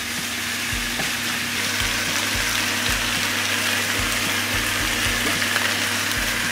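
Ingredients for a Sri Lankan mutton curry fry in oil with a steady, loud sizzle that never lets up. A low mechanical hum with a regular soft pulse runs beneath it.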